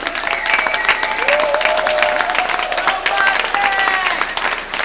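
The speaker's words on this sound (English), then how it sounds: "Let's give them a round of applause for fighting the good fight." A crowd applauds with sustained clapping and some cheering, while voices can be heard over the applause.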